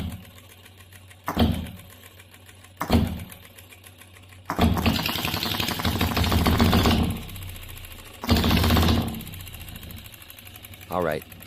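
An OKMO B02 Stirling engine being adjusted, its fast mechanical whirring and rattling rising in bursts as the speed changes, alternating with quieter gaps, with a voice speaking at points.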